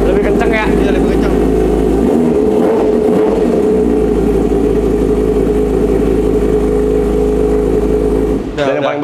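Loud, close, steady engine drone of a Kawasaki ZX6 motorcycle from 2023 fitted with an SC Project titanium exhaust, holding a strong revving note throughout and cutting off sharply at the end.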